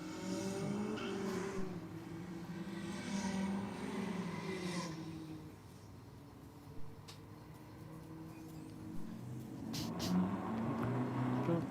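Nitrous-fed turbo race car sitting on the start line, its engine droning and surging with rising and falling revs, fairly distant and steady, with a brief lull midway before the roar builds again.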